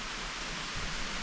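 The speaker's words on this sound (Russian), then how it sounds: "Опять пошел дождь." Rain falls outside as a steady, broadband hiss with no distinct drops, moderately loud and unbroken throughout the short stretch.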